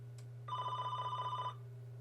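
A telephone bell rings in one rapid trilling burst of about a second, clear but moderately quiet over a steady low hum.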